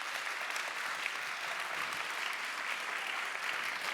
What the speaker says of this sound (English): I was hoping for a much stronger applause